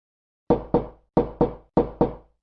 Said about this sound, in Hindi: दरवाजे पर कोई आया है।